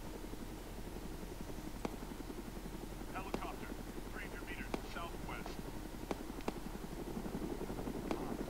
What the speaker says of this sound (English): Oh, helicopter, I think he spotted us.